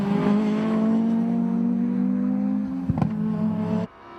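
Modified Ford race cars, a Cosworth and an RS2000 Escort, at a circuit race at Anglesey, a sustained loud engine drone with a brief sharp burst near the end before cutting off.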